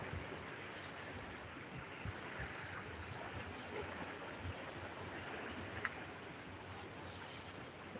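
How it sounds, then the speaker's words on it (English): Ocean waves rolling in at a beach with a raised water level, recorded very close up, giving a constant dense rush of surf and splashing throughout with no voices. "here comes the first barrage of these waves with the higher water level"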